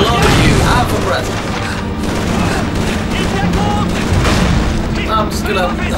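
Dense Call of Duty 3 battle gunfire with overlapping bursts, booming explosions and rapid fusillades runs loud and continuous, while game voices shout over the combat.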